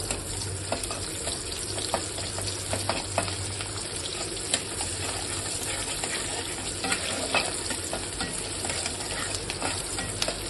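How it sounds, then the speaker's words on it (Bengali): Onion, ginger and garlic fry in oil in a wok, a close, continuous crackling sizzle with steady spitting pops and occasional stirring, no voices. "আমি তিনটেই দিয়ে দেবো কড়াইতে।"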